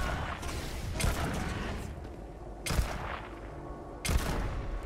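Bursts of gunfire in the sci-fi strategy game Shattered Space, with three loud volleys breaking out over a steady rumble of combat, the shots sharp and dense at each onset before trailing off.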